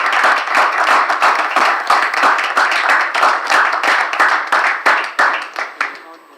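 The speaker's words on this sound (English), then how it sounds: "I request that we give this resounding applause." An audience claps in sustained applause at a UNESCO Biosphere Reserves designation ceremony, a dense patter of many hands that thins out and fades over the last seconds.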